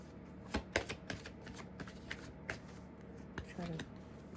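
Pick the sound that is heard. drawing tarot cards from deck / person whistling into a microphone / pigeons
drawing tarot cards from deck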